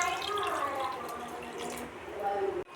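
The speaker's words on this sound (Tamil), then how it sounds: "இதுலேயேங்க 1 பவுல் தண்ணி ஊற்றிக்கலாம்" Water poured from a bowl into a cooking pot of chicken dum biryani with mint and coriander, a steady close splashing and trickling that runs continuously for a few seconds before stopping abruptly.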